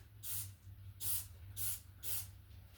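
An aerosol can sprayed at a creature in four quick, hissing bursts about half a second apart, fairly faint with no talk.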